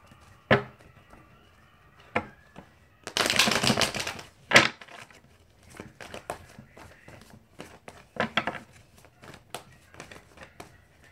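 Name slips rustled and shaken inside a drawing bag, giving a loud crinkling burst of a second or so with a sharp papery rattle, set among scattered softer handling noises and taps.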